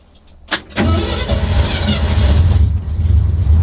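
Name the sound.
car engine starting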